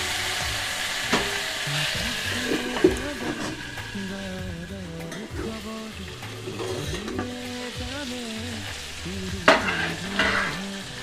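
Broiler chicken pieces with sesame frying on a low flame under a lid, a steady soft sizzle with intermittent scraping stirs and a clink or two near the end, recorded close with a faint voice now and then.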